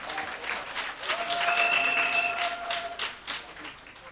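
An audience at an investiture ceremony for women supporters of Laurent Gbagbo breaks into continuous, even applause, a broad wash of clapping with a faint held tone running through part of it.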